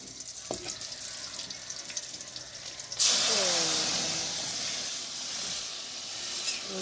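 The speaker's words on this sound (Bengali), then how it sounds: "তো এর মধ্যে এখন ডালটা আমি দিয়ে দিব।" Lentils go into a pot of boiled bitter gourd, a quiet kitchen scene suddenly giving way to a loud sustained hiss and sizzle of steam and liquid that slowly settles, with no voices.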